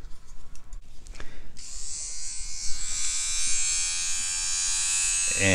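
A Vivitar nose hair trimmer powered by an AA battery clicks on and its small motor whines steadily at a high pitch, close and continuous after a few handling taps.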